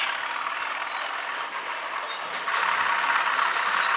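A diesel locomotive's engine thrash in a train simulator game, a steady rough mechanical roar that grows noticeably louder and harsher partway through, with no talk over it.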